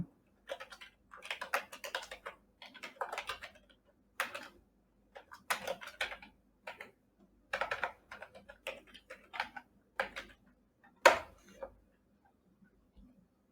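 Bursts of typing on a computer keyboard fill a quiet room, short clusters of key clicks separated by pauses, close and fairly soft, ending with one sharper keystroke.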